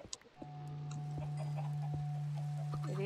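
Faint chicken clucks from the video game Minecraft come in short scattered calls over a loud, steady low hum that fills most of the clip, with no talking.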